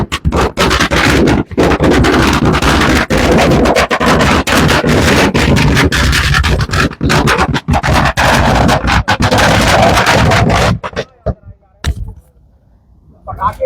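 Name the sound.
firecrackers exploding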